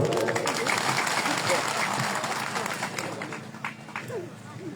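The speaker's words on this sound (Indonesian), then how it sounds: "Tepuk tangan untuk beliau." A crowd at an election campaign rally for a regent candidate in Sumba Timur breaks into steady applause, thick clapping with voices mixed in, gradually thinning toward the end.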